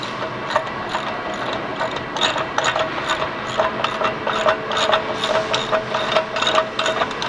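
A stem bolt is put back into a canal gate, with close metallic clanks, ratcheting clicks and scraping knocks in an irregular series, no voices.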